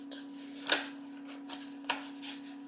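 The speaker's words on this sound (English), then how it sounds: "I'm just going to give these a good shuffle first." A deck of tarot cards being shuffled by hand, a quiet indoor sound of soft papery riffles and taps at irregular intervals over a faint steady hum.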